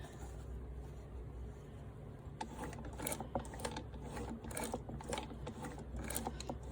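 A sewing machine stitches through quilt fabric, giving a quiet, close mechanical whir with a brief run of rapid clicking stitches that starts partway through and is heard alone.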